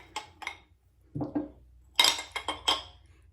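Small vintage decorative knobs clink and rattle against one another as they are handled, a few light, sharp clusters of clinks with short pauses between them, close and fairly quiet.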